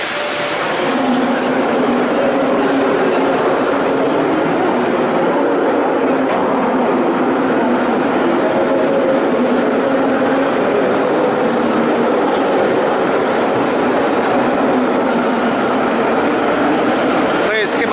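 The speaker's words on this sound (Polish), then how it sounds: "I to jest nasz pociąg do Sarańska." A passenger train bound for Saransk idles at a station platform near Moscow, a loud, steady broadband rumble and hiss of engine and station noise that fills the whole stretch without pause.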